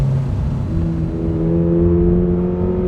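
Toyota GR86 sports car (2026) cruising along a back road, a steady engine drone with rising harmonic tones as it pulls through gears, plus constant road and tyre noise, close and continuous with no talk.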